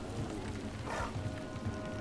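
Steady rain in the video game Dragon Age: The Veilguard hisses over a low rumbling background, a continuous wash of falling drops with no voices.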